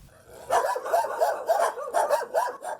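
Dogs at a small animal shelter barking repeatedly, a rapid run of sharp barks and yips in a steady rhythm, loud and close with no talking.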